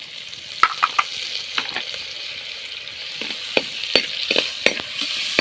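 Tomato and onion frying in oil, a bright, steady sizzle broken by frequent spatula scrapes and clacks against the pan, close and fairly loud, with no talking.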